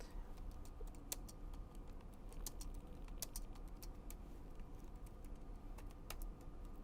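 Steady computer-keyboard typing while a Java program adding two matrices is written, with irregular clicky keystrokes running through the whole stretch at a quiet level over a soft background hum.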